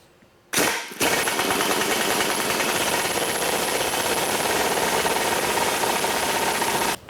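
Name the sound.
pressing out truck U-joint with impact wrench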